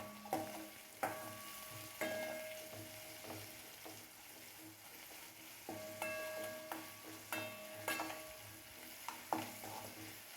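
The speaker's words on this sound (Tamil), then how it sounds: "வெங்காயம் நல்லா வதங்கட்டும்." Onions sautéing in a pan with salt, for masala potatoes: a soft steady sizzle broken by repeated scraping stirs and light metallic taps of the spoon, close and fairly quiet.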